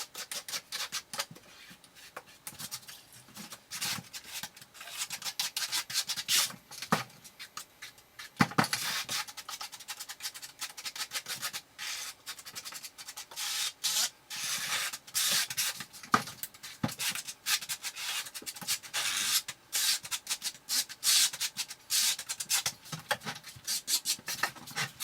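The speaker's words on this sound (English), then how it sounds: "So just going to spread some cement here" A trowel spreads unmodified thinset cement over Schluter Ditra membrane, giving a continuous close scraping and rubbing with uneven strokes and occasional sharper scrapes, and no talk.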